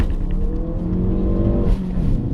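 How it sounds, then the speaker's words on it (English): A Ford Focus RS makes a full-throttle launch-control start, its engine held at a loud, steady high rev close by, with a slight rise in pitch toward the end. "it's time for some launch control and some skids"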